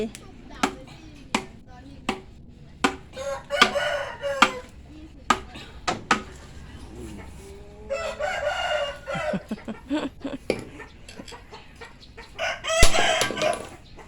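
Rooster crowing and hens clucking around a rural home garden, with a sharp repeated chopping sound of knocks throughout, the crowing loud and near between the clucks.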